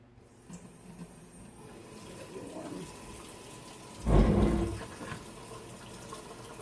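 A short splash of water pours briefly into homemade chalk paint paste, loud and close, amid quiet room noise with faint handling sounds before it.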